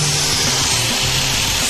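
An angle grinder runs against a car body in a garage, a loud, steady, harsh whine with grinding noise throughout the short stretch.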